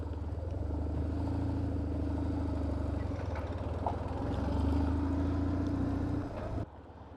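A BMW R1150GS motorcycle pulls away, its engine a steady, close, rumbling drone with a rhythmic throb that holds for several seconds before cutting off sharply.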